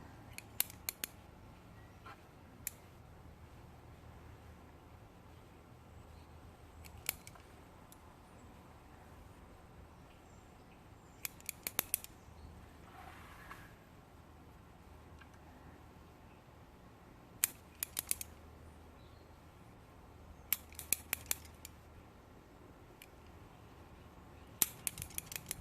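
Scissors snip the tops off a lemon cypress tree in scattered bursts of quick, crisp clicks, several cuts clustered together and separated by long quiet pauses, faint and close.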